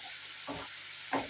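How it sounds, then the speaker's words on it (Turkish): Albanian-style liver stirs and fries in a pan, two soft scraping bursts of stirring over a quiet steady sizzle. "Böyle karıştırarak pişireceğiz"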